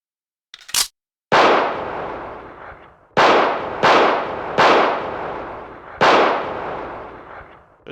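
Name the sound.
gunfire in a video game (H&D add-on)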